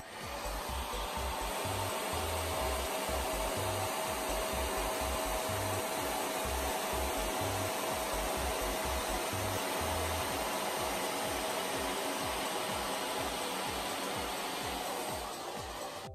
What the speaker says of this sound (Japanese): この状態でブローしていきます